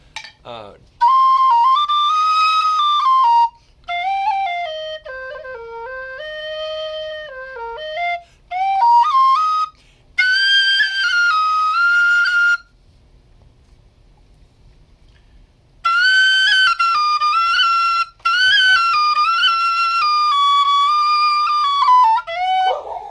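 A Carbony Mezzo low whistle plays slow melodic phrases, its breathy, clear tones rising and falling in separate passages with short pauses of silence between them.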